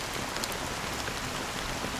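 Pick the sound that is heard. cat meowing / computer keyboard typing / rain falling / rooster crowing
rain falling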